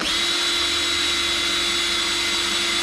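Steady whine from a BLDC motor turning a lathe at about half its maximum speed, around 1500 RPM, driven by an Invertek OptiDrive VFD, with a constant high electronic tone over a broad motor hum and no voices.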